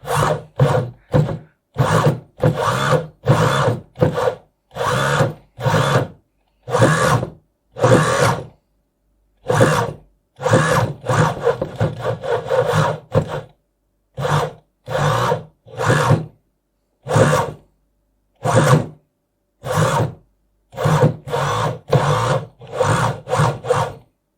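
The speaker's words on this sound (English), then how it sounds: "I'm just letting the motors run. This is going to get quite loud." Small brushed electric motors on a 6S 50A speed controller for combat robots whir loudly at full speed in repeated bursts, spinning up and cutting off again and again in an uneven rhythm, with no talking.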